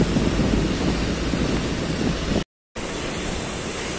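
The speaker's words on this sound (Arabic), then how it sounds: "طبعا هو الموج عالي شوية" High sea waves breaking along the open Alexandria coast after Storm Daniel, a loud, steady roar of surf and wind that cuts out briefly to silence before resuming.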